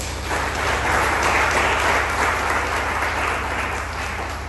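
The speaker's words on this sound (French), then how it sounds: "Je vous invite à apprécier les efforts des finalistes par un show d'applaudissements" Audience applause for the finalists at a Haitian school competition event, a sustained, dense crowd clapping that swells quickly and holds steady for several seconds with no voices over it.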